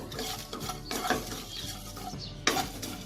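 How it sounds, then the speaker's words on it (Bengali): Whole cardamom pods and a piece of cinnamon dry roasting in a pan, with dry scraping and stirring clatter against the metal, a few sharper knocks and faint rattling, moderately close with no talk. "এটাকে আমি খুব ভালো করে ড্রাই রোস্ট করে নেব"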